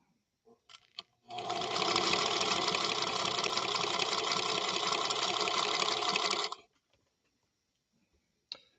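A Singer Centennial Featherweight sewing machine stitches a lock stitch in one continuous run of about five seconds, a steady close whirring hum, bracketed by a few faint clicks before and after.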